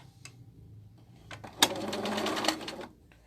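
A sewing machine chain-pieces quilt blocks in a quick burst of rapid stitching lasting about a second, with faint handling clicks before and after.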